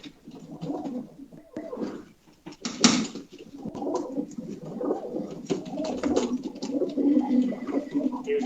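Pigeons coo steadily at a pigeon sale, several soft, low, rolling coos overlapping close by, with faint clatter mixed in and no talk.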